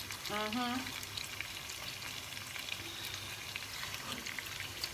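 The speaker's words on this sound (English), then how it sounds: "we are gonna fry these bad boys up" Steady sizzling of oxtail frying in a pot, a constant crackling hiss with a brief whistle-like tone near the start.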